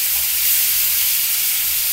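Cauliflower florets frying in a small amount of oil give a steady, close sizzle and hiss throughout, with no talk over it.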